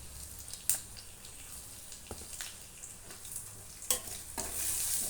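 A spoon stirs coarsely ground red chili into a raw mango chutney, giving soft wet squishing and scraping with a few sharp clinks against the bowl, close and fairly quiet.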